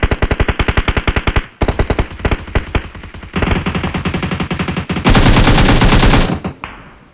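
An M416 rifle in PUBG Mobile fires long automatic sprays, rapid loud cracks in several bursts separated by short gaps, the last burst the densest before it cuts off.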